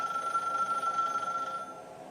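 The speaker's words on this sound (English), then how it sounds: "The rotary phone in the bedroom." A rotary telephone bell rings in a bedroom across the house, a steady metallic trill heard from a distance that fades out near the end, with no talk.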